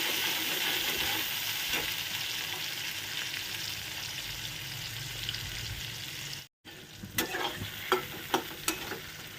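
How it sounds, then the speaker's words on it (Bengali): Onion, tomato and garlic fry in hot oil with a dense, close sizzle and occasional spatula stirs; after a brief break, the frying resumes with sharper scraping knocks. "তো দিয়ে দিলাম পেঁয়াজ, টমেটো আর রসুন, সুন্দর করে এটাকে লাল লাল করে ভেজে নেব।"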